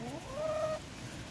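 A Welsummer chicken gives a single brief, drawn-out cluck at middle distance over a low background murmur, with no voices.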